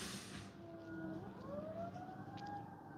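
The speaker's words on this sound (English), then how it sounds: "This is the sirens are going off right now." Emergency vehicle sirens wailing outside, rising and falling tones sounding distant and faint over a low background hum, no talking.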